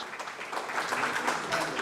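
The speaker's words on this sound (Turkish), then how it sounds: "Evet kocaman bir alkış." Audience applause at a Turkish children's knowledge quiz competition, a steady crowd of clapping hands filling the space for about two seconds with faint voices mixed in.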